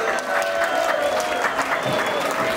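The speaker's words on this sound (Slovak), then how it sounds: "veľký potlesk, ďakujeme!" Audience applause at an awards announcement for a cooking competition, a dense, continuous clapping from a sizable crowd with faint murmuring voices mixed in, holding steady throughout.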